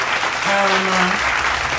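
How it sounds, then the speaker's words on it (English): Audience applause greets a rapper, a steady, dense clatter of clapping throughout, with a short voice sounding briefly over it partway through. "let's give him a round of applause"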